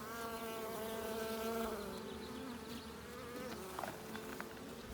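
Honeybees hum in a hive while building comb, a dense, steady drone of many wings close by, with a few individual buzzes rising and falling over it.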